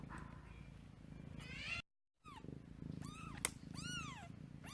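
A rescued feral cat, a small gentle mother, gives several rising and falling meows with a soft purring undertone, close and clear, broken by a brief silent gap.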